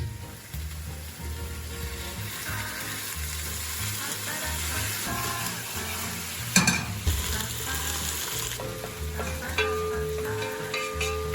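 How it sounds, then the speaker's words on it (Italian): Ossobuco deglazed with white wine sizzles loudly and steadily in a pan, with a sharp burst partway through and occasional utensil scrapes and stirs. "andiamo a sfumare con il vino bianco"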